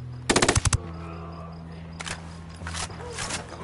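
Enemy machine gun turret in the Ghost Recon Wildlands video game fires a quick loud burst of about six rapid shots, followed by a lower steady rumble and scattered fainter bursts later on.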